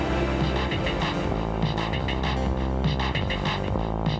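A looping electronic sequence on a Roland MC-707 groovebox throbs with a warbling, wobbly tape-style modulation, steady and dense, with no voices.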